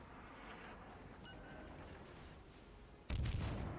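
Naval gunfire in the World of Warships video game, a sudden loud boom near the end after steady low engine and sea rumble, with no talk.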